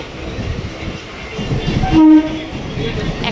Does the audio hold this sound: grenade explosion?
no